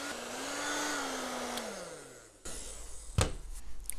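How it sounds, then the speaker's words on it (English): A steady whirring hair dryer blows for a couple of seconds drying air-dry clay, its motor pitch sliding lower, then a clatter and knock follow. "you can use hair dryer"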